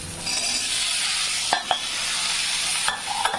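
Boiled chickpea sundal being stir-fried in a pan with coconut, onion and chillies, a steady close sizzle with a few sharp scrapes and taps of the spoon against the pan.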